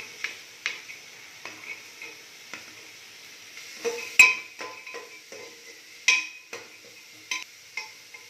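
Carrots and beans tossed with ginger and garlic in a pan for a vegetable pocket paratha filling, heard as light sizzling with scattered clinks and scrapes of a spoon stirring against the pan, close and without talk.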